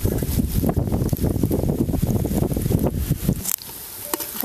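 Strong gusty wind roars steadily across the microphone outdoors beside a wood-fired clay stove, a dense rumbling buffet that drops off abruptly near the end.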